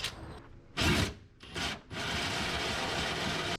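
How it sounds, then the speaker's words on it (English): Harsh, grinding power-tool bursts start and stop, then settle into a steady, loud buzzing whir as the bit drills a large hole through the metal of a brand-new 2024 Ford Super Duty F350 truck. "drilling a big old hole in my brand new truck"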